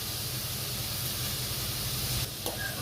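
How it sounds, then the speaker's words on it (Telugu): Three large chopped onions fry in a pan for a cashew paneer curry, giving a steady, loud, close hiss of sizzling with no talk and only a brief dip near the end. "మూడు పెద్ద ఆనియన్స్ ముక్కలు చేసి ఇలా చేసుకొని వేసుకుంటున్నాను ఇవి కొంచెం బాగా ఫ్రై అయ్యేంత వరకు వేయించుకోవాలి"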